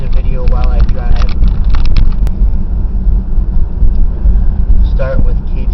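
Car driving along a road, heard from inside as a loud, steady low rumble with wind noise, while a person talks over it.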